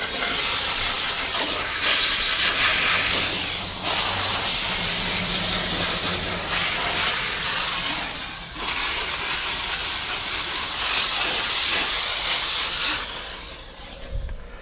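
Continuous hissing spray bursts from a spray bottle of cleaner inside a car interior, close and loud, with brief pauses between several long sprays.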